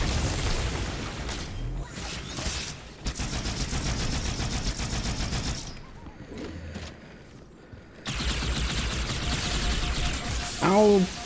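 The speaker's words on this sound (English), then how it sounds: "Ow, red plasma rifles hurt." Red plasma rifles fire in Halo 2 Anniversary in loud rapid bursts with short pauses and a few heavier booms. A voice talks in the gaps.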